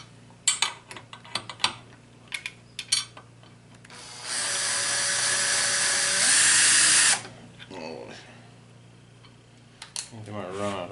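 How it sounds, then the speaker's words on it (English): Power drill driving leg bolts into a homemade wooden draw board: a steady whine of about three seconds, rising in pitch near the end, after scattered clicks and handling knocks. A final short burst follows. "So I'll just run a couple leg bolts in."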